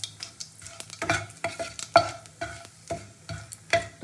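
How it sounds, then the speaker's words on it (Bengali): Dried red chillies and cumin seeds sizzle in hot oil as a tempering for a singhi fish curry, with a steady crackle broken by repeated sharp stirring scrapes and clinks of a spoon against the pan. "এবার আমি তেলের মধ্যে ফোড়ন দিয়ে দেবো এই শুকনো লঙ্কা, জিরে একসাথে"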